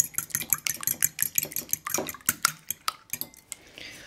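A cracked egg beaten in a bowl with a utensil, giving a rapid run of sharp clinks and taps against the bowl, close and fairly loud, slowing and thinning out toward the end.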